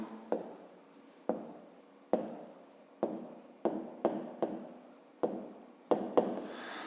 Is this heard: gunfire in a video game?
no